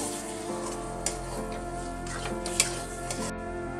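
Fried fruits, apple and grapes, being stirred in a pan for a homemade sweet, giving a steady close sizzle with light scraping and clinks of the spoon against the pan.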